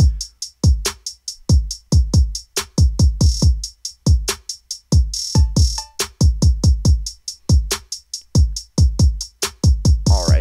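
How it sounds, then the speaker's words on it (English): A trap drum beat plays loud and up close, with punchy booming kicks, snappy hits and rapid rolling hi-hat bursts repeating in a tight, steady pattern with no voices. "So here we recorded this kind of trap beat, which sounds like this."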